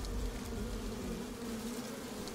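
Swarm-of-bees spell cast by an enemy in the video game Skyrim, a steady, fairly quiet buzzing drone of many insects lasting a couple of seconds with no talking.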